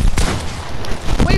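A sniper hunting rifle in a video game fires two sharp, loud shots about a second apart, each a sudden crack over busy background game noise.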